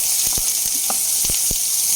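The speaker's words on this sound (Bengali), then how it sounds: "তেল গরম হয়ে এলে আমি চিংড়ি মাছ কটা দিয়ে দেবো" Prawns frying in hot mustard oil in a kadai give a steady close sizzling hiss, broken by a few sharp spitting crackles and pops.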